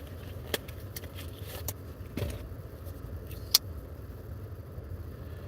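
A car drives along with a low steady engine and road rumble from inside the cabin, broken by a few sharp clicks and rattles, with no talk.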